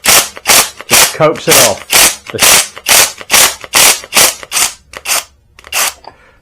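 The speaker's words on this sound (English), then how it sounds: "I'm using the rattle gun to just" A rattle gun (impact wrench) hammers at the stuck crankshaft of an Ariel Bantam motorcycle engine in a workshop, firing loud, rapid repeated bursts in a steady rhythm with brief pauses, while someone speaks briefly over it.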